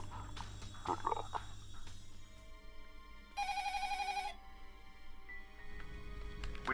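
A telephone in a horror film parody gives one warbling ring of about a second, fairly clear over a low rumbling, noisy room background.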